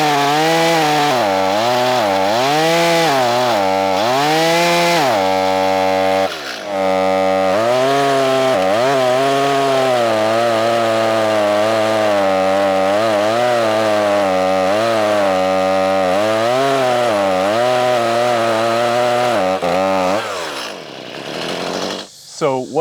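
A 1.6 horsepower chainsaw bogs and revs as it cuts through hardwood, its engine pitch rising and falling loudly and continuously for about twenty seconds before winding down at the end.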